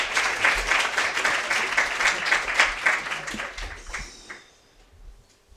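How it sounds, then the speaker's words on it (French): Audience applause after a conference talk on transport and storage infrastructure, a dense burst of many clapping hands that fades out over the last second and a half. "Vous pouvez applaudir."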